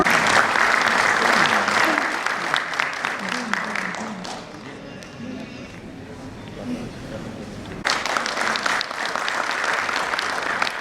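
Steady applause from a crowd fills the whole stretch, thinning in the middle and then swelling again toward the end.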